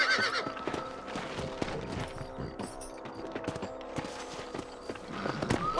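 Horses in the Red Dead Redemption video game whinny and clip-clop along, hooves thudding steadily under a busy game soundscape with occasional creaks, fairly close and moderately loud.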